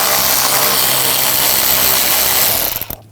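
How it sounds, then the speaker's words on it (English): A power tool fitted with a T25 socket drives out the air box screws on a Volkswagen Tiguan in one loud, continuous whir close by, then cuts off abruptly near the end. "I'm going to use a T25 socket."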